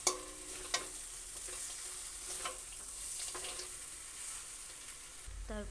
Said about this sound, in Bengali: বাদাম দেওয়া হয়ে গেলে আবারও একই রকমভাবে নেড়ে চেড়ে একটু মিশিয়ে নিতে হবে।